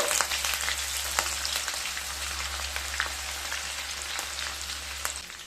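Chopped medium onions frying in hot oil in a pan give a continuous close crackling sizzle with scattered sharp pops, steady throughout under a low background hum.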